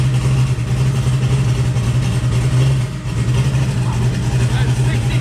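A 5.3 LS V8 runs hard on a dyno, holding a loud, steady low drone with a brief dip around midway before settling back to full power, close and dominant.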